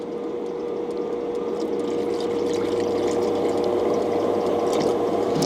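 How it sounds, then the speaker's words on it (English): Tap water pours steadily into a kettle inside a campervan, a continuous rushing fill with a faint pump-like hum underneath, close and fairly loud, with no talking. "I'll get some water in this kettle so that it's ready to go."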